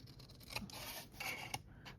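Scissors snipping through paper for a honeycomb tiered tray craft, a few quiet, close slicing cuts with sharp blade clicks separated by soft rustling.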